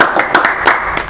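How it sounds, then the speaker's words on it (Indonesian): Brief burst of clapping and applause from a small gathered group at an Indonesian talk-show session with Viking Cilegon football supporters, a few rising swells of claps over about a second. "tepuk tangan dulu buat kita semua"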